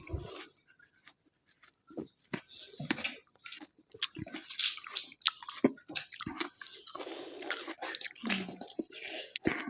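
Someone eats up close with wet, irregular chewing and biting sounds in quick bursts, broken by brief pauses.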